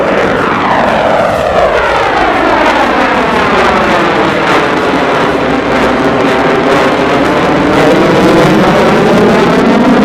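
Loud, continuous jet roar from an F/A-18 fighter fitted with external fuel tanks, a steady powerful engine drone with a sweeping, shifting pitch as it passes, with no talk over it.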